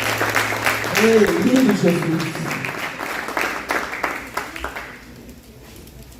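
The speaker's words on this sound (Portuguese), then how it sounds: "Aplauda o Senhor, Ele é bom." Audience applause fills a church family conference hall, dense clapping under a speaking voice and some sung notes early on, then fading toward the end.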